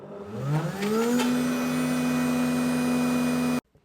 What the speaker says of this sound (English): this blender is not really ideal for this job